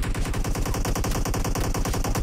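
Rapid automatic gunfire in PUBG Mobile, a dense, continuous stream of sharp shots that stays loud and steady throughout.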